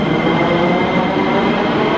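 A Sofia metro train rumbles loudly and steadily as it runs underground, a dense continuous roar with faint rail clatter throughout.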